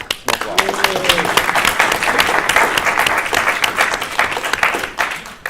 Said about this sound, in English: Everybody give Erica a applause.